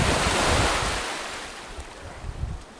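Ocean waves break and wash continuously at Ngor beach in Dakar, a loud, steady roar of surf with wind buffeting the microphone and no voices.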